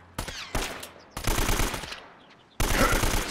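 Gunfire in the video game Uncharted: Drake's Fortune: rapid automatic bursts in several loud clusters, separated by short gaps, crackling close and sharp.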